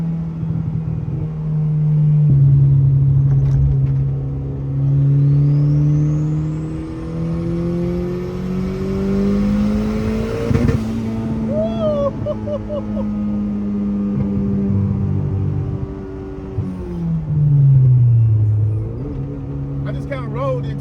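A Honda Civic EF engine pulls hard through fourth gear, its loud drone climbing steadily in pitch, dipping briefly at a shift, then rising again, with a voice speaking over it near the end.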